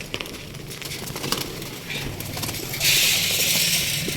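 Pigeons in a loft coo softly, with light rustling and a burst of wing flapping toward the end, under some nearby background noise.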